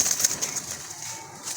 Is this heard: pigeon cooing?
yes